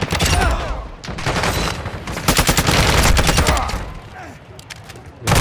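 Dense bursts of automatic gunfire from Call of Duty: Modern Warfare II's DMZ mode, loud and close, rattling in rapid volleys with brief lulls between them.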